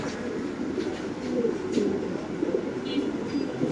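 A Bokhara house pigeon coos in low, soft, repeated calls over a steady background rumble, close by, with no clear talk.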